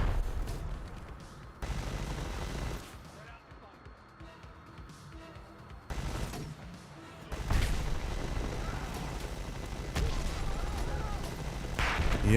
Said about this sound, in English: Look at that chain gun.